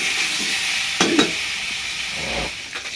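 Mixed spices sizzle in a hot pan with a steady frying hiss, broken by a few sharp scraping stirs of a spoon against the pan.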